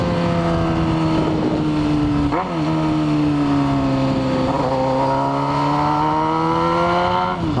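A Honda Hornet motorcycle's exhaust roars loud and close with a sustained engine drone that rises and falls through several revs and gear shifts while riding.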